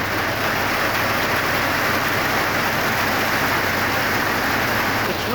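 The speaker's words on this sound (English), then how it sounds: "It's really pouring. This is a metal container, and it's just hitting the top and echoing." Heavy rain drums steadily on the metal roof of a storage trailer, a dense continuous hiss with a hollow echo, loud and unbroken throughout with no pauses.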